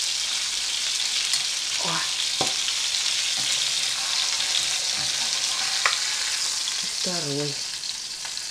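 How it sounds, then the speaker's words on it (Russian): Saltimbocca wrapped in bacon fries in a pan with a steady, loud sizzle throughout, punctuated by a few utensil scrapes. A voice briefly speaks over the hiss. "И также 2 минуты жарим с этой стороны"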